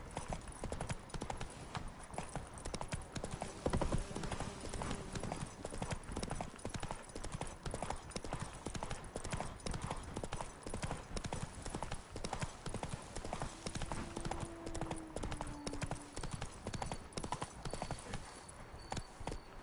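Horse hooves clip-clop steadily in The Witcher 3, the mount trotting along in a continuous rhythmic patter with a brief whinny, under constant game ambience and music.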